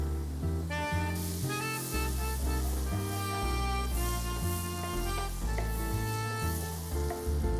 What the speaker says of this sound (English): I'm going to heat a tablespoon of butter.